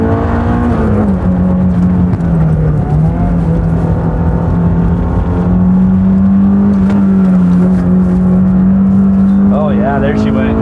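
A Honda S2000 engine climbs and holds a loud, steady drone as the car accelerates along a twisty touge mountain road, with the pitch shifting slightly through the run.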